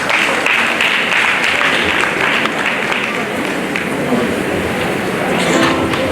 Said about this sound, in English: please can you give applause to the latest inaugural